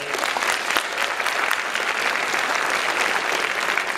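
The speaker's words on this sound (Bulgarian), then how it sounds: "Аплодисменти за Румен Желев." An audience applauds a youth champion at the opening of a championship event, loud sustained clapping from a crowd filling the whole stretch at an even level.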